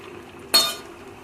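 A single short metallic clink rings out as a spoon knocks the pan while roasted cumin is stirred into pumpkin greens cooked with matar dal, against a quiet kitchen background.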